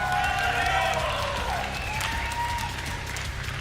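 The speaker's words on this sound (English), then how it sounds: "I hear a bit of an applause." A crowd at the Quakecon Quake collegiate championship finals applauds and cheers the winning team, a moderate wash of clapping under someone talking over it.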